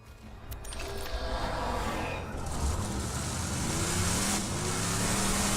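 A car engine in Borderlands 2 revs and roars loudly and steadily, with a continuous rumbling drone that rises in intensity as the vehicle accelerates.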